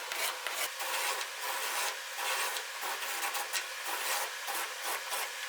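A hand tool scores grooves into cedar partition and wall pieces for a bat house, making steady rasping, scraping strokes in a quick repeated rhythm, close and moderately loud with no talking.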